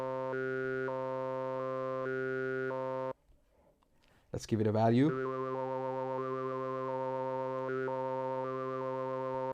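KASPAR iPad synth playing a sequenced pattern of steady, stepped electronic tones with an LFO modulating filter resonance. The sequence breaks for a brief spoken line, then returns with a swept, wobbling burst that settles back into the stepping pattern.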